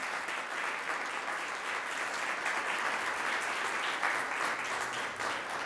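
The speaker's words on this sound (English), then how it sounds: "Let's give her a round of applause." An audience at a Miami award ceremony applauds a school principal, a full, even wash of many hands clapping that holds steady throughout.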